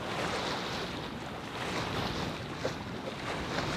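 A sailboat under sail in clear wind after motoring around a headland, with a steady rush of wind and waves washing against the hull, wind buffeting the microphone throughout.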